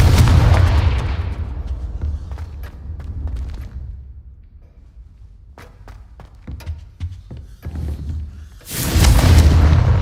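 A Confringo fire blast spell in the Hogwarts Legacy video game: booming explosive bursts and scattered sharp impacts, loud at the start and again at the end with quieter crackling hits between.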